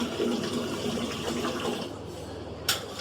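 A candle wax filling machine pumps water into a glass bottle in a steady, loud, gushing pour, ending with a brief sharp clink near the end.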